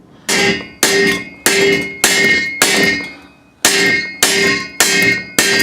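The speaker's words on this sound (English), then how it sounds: "I'm gonna try hammering it this way so they don't meet in the middle." Eight loud, sharp metallic hammer strikes on a metal exhaust header for a 5.7L Hemi Grand Cherokee, each ringing out and fading before the next, in a steady, unhurried rhythm with a brief pause midway.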